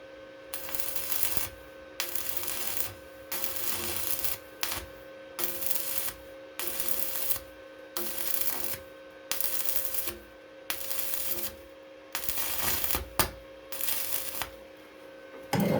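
A welder works at low current to fill a gap. The crackling hiss comes in about a dozen short, regular bursts, each a second or so long, with quiet pauses and a steady hum underneath.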